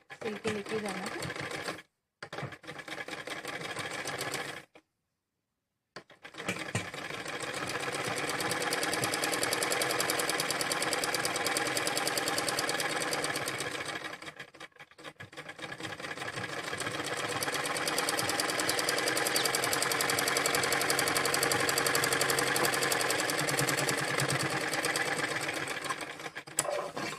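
A sewing machine stitches the leg of a jumpsuit in a long, steady, close whirring run, broken by a couple of short stops early on and a brief slowdown midway.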